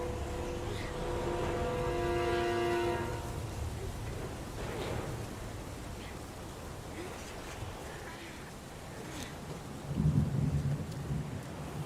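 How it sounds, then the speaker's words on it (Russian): Rain patters steadily in the video game Heavy Rain, with a low rumble of thunder rolling in near the end and a faint musical tone early on. "идет этот дождь, а мне кажется, что у меня дождь за окном."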